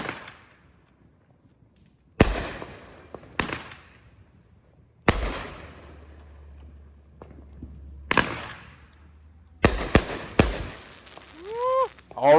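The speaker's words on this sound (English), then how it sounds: "that was War Shield. Man, that was 12 shots that shot high in the sky." A War Shield firework cake from Raccoon Fireworks fires a run of sharp booming shots, loud and spaced a second or two apart, with crackling tails and whistles near the end; voices are heard between the bangs.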